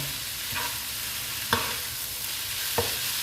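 Mee sua noodles are stir-fried in a pan with a continuous loud sizzle, broken by a few soft scraping strokes of the utensil.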